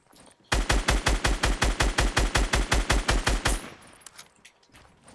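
Rapid automatic gunfire in Fortnite Battle Royale, a loud, steady burst of about fifteen evenly spaced shots lasting three seconds, then a quieter tail with faint game ambience.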